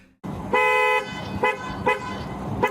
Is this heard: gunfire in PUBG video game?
no